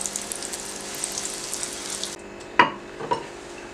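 Bread slices frying in oil give a bright, steady sizzle that suddenly cuts out partway through, followed by a couple of quick splashy knocks.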